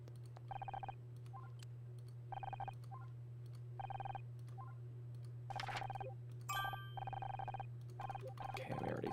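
Telephone ringing in repeated evenly spaced electronic trilling bursts, heard faintly and moderately distant over a constant low hum, with brief clicks and a rising tone near the end.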